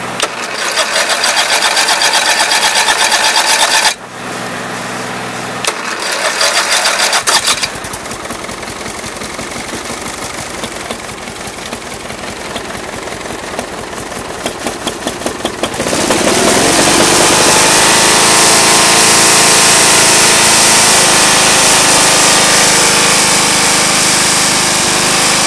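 An old car engine idles roughly after a cold start, its loud rapid chatter faltering and changing pitch before settling into a harsher, steadier running note with strong exhaust noise.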